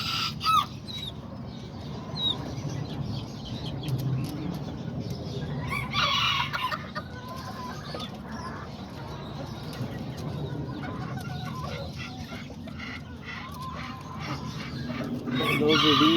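Azteca kikiriki bantam roosters and hens cluck steadily close by, with repeated crowing from young cockerels rising over a busy coop backdrop.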